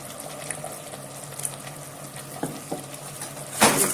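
Chicken gravy with coconut and poppy seeds simmers in a pan with a low steady bubbling sizzle, soft stirring clinks, and a louder scrape near the end.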